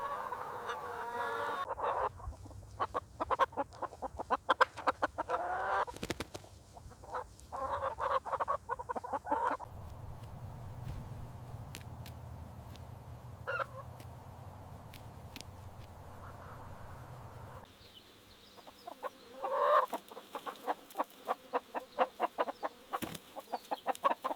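Bresse chickens clucking and calling in a loose flock outdoors on a farm in France, with scattered sharp clucks over a steady low background rumble, some bursts closer and louder.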